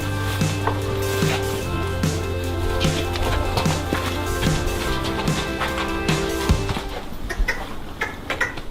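Rhythmic thudding hoofbeats of a large racing horse under a rider, a steady repeating clip-clop pattern close by for several seconds before fading into softer clatter.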